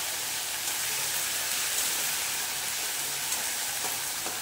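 Whole garam masala and a ground paste of ginger, cumin and coriander fry in a pan, giving a loud, steady, close-up hiss of sizzling oil that continues unbroken with no voices.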